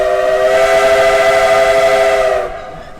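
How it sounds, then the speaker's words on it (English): A loud, sustained steam train whistle on the Sumpter Valley Railroad in Baker County blows steadily for a couple of seconds, then cuts off, leaving faint rumble. "I love to hear that whistle go by."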